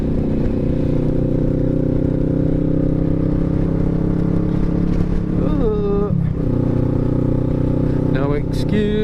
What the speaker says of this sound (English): if you're finding it hard to hear, and that is because on this bike I had to upgrade the exhaust